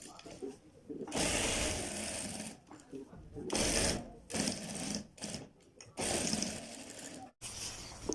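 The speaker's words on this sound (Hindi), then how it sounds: "सिलाई पक्की करने के बाद हम अपनी सिलाई लगा लेते हैं।" A sewing machine stitches the side pocket of a kid's kurta in close, loud bursts of rapid whirring, stopping and restarting several times with short pauses between runs.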